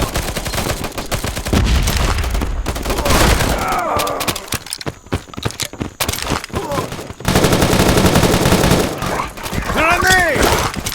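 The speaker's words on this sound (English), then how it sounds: "Grenade!" Loud, dense gunfire in the mobile shooter Modern Ops on the Sawmill map, with rapid automatic bursts, sharp shots and a grenade blast packed together, alongside shouted voices.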